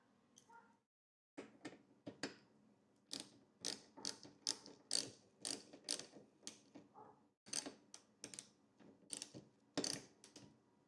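Nut on a car wiper arm being tightened, giving a close, rapid series of ratcheting clicks in uneven bursts, with a short silent gap near the start.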